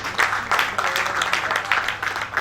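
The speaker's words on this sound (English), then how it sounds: "Please a round of applause for her." An audience at a formal investiture ceremony for a new chairman of a professional institute's Lagos State chapter gives a moderate round of applause, with steady overlapping clapping throughout and no clear speech.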